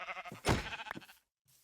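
Sheep in a farming video game give a single loud, harmonic bleat lasting about a second, heard alone and close, followed by a short near-silent pause.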